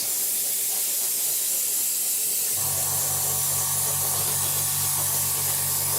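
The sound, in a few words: spraying a light matte coat on a Revell model kit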